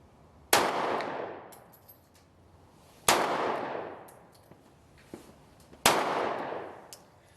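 Three sharp, loud 9mm shots from a Smith & Wesson CSX pistol at a shooting range, spaced about two and a half seconds apart, each with a long echoing decay and no talk between them.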